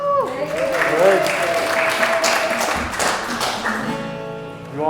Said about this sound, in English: Cheer for the Grannies.